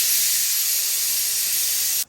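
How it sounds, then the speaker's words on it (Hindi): A pressure cooker vents steam after its whistles, giving a loud, steady broadband hiss that runs unbroken for about two seconds before cutting off sharply. "जब पूरा प्रेशर कुकर यहाँ से पूरा प्रेशर रिलीज हो जाएगा फिर हम लोग देखते हैं कैसी बनी"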